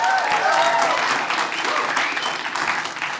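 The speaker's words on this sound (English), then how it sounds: "By your applause. Where are the parents with us tonight?" Parents in a stand-up comedy audience clap and cheer in a loud, dense burst of applause that carries on steadily, easing slightly toward the end.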